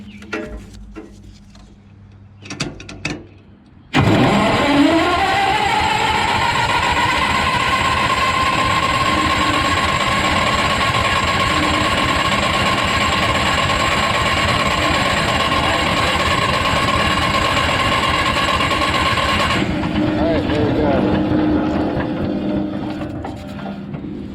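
A Wisconsin V465D engine on an Eager Beaver wood chipper is cranked over with a freshly rebuilt fuel pump, giving a loud, steady mechanical whirring drone for about fifteen seconds after a few scattered clicks, then easing off to a lower idle-like hum.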